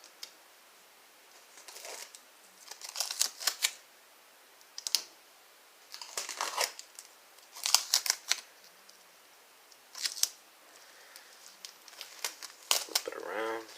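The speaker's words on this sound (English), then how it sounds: "So I put some tape on the outside like this." Tape being handled and pressed onto the outside of a homemade fabric face mask, giving scattered crinkly bursts and short sticky tearing sounds at irregular intervals, fairly faint and close.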